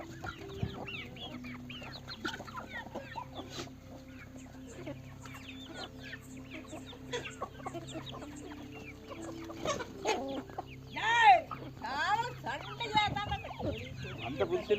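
Native chickens on an Indian farm clucking and chattering near and far, with a louder burst of squawking partway through, while a person talks quietly in the background.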